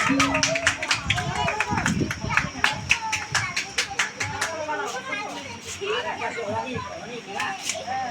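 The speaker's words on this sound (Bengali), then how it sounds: "জোরে হাততালি হোক, জোরে হাততালি।" At an award ceremony during a village cultural event, scattered rhythmic clapping rises amid crowd chatter and children's voices, with a person talking throughout.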